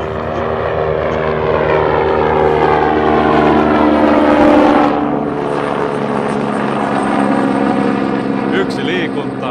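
A propeller light aircraft passes at Malmi airport in Helsinki, a loud steady engine drone that swells to a peak near the middle and then slowly fades as it moves away.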